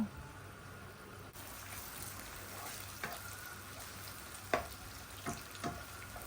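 Cinnamon stick frying in hot oil in a pan while cooking chickpea curry, a steady soft sizzle throughout with a few faint clicks and pops, no talking.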